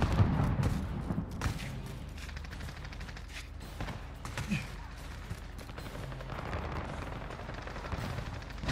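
Gunfire in Warzone, a Call of Duty battle royale game, with a dense rattling burst of automatic shots at the start and scattered distant shots after, under steady game noise.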